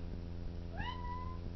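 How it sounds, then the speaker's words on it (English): A domestic cat indoors lets out a single rising, drawn-out meow partway through, clear but not loud, against a quiet room hum. "sorry, ignore my cat"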